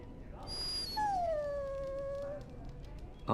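A dog in the Dragon Age Origins video game lets out a single long, drawn-out whimpering howl that slides gently downward and then fades, with quiet game ambience around it.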